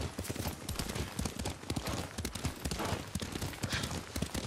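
Steady rhythmic clip-clop of horse hooves at a brisk pace in the video game Ghost of Tsushima, close and continuous, with faint ambient noise behind.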